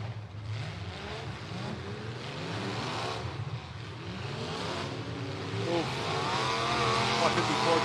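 Race cars battle and bump each other at River City Rampage, engines roaring and revving with rising and falling pitch, growing louder toward the end, under commentators talking.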